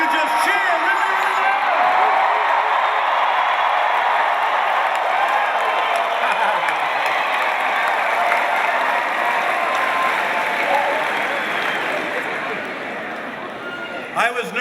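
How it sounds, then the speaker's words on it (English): A big political rally crowd cheers, whoops and applauds loudly and continuously, a dense roar that stays steady before fading a little near the end. "why don't you just cheer really,"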